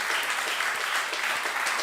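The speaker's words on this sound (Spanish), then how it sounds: "um aplauso, please" An audience at a church gathering claps continuously, a dense, even wash of applause close by with no talk.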